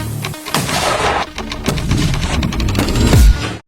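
A series of sharp, heavy mortar blasts from close by during a firing drill, several sounding in a few seconds, each a loud crack with a deep rumbling tail.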